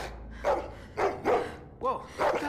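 A dog in The Walking Dead video game, season 4, barks four times in an uneven rhythm, each bark loud and close, with a short whine between the later ones.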